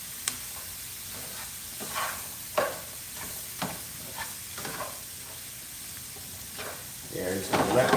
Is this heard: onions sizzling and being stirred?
yes